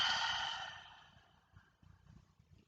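A single long open-mouthed exhale during a relaxing forward bend, a soft close breathy sigh that fades out over about a second, followed by faint quiet rustling.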